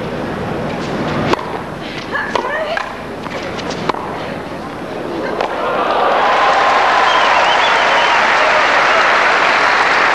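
Tennis crowd at a 1999 Monica Seles versus Tatiana Panova match swelling into loud, sustained applause after a few sharp ball and racket hits, with commentary voices over the start.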